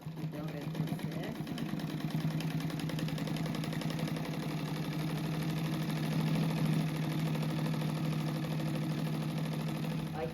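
A sewing machine runs a steady, continuous hum as it sews a seam on a fabric rug, with what may be a voice over it.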